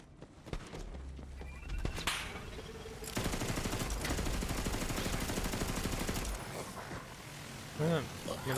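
Rapid gunfire from an infinite-ammo pistol in Borderlands 3, a dense burst of shots running for several seconds amid game effects and louder surrounding noise, with a voice talking over parts of it.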